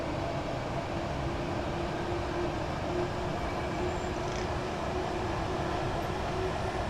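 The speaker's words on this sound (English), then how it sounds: "This is the Class 801, so it is the electric only variant of the Hitachi IET series." A steady electric train rumble with a continuous hum from an LNER Class 801 Azuma, the electric-only Hitachi IET, running in Train Sim World 4, even and unbroken throughout with no voices.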